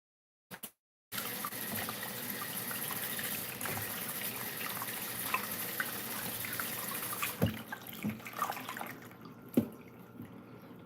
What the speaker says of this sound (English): I'm gonna wash my hands from all that all day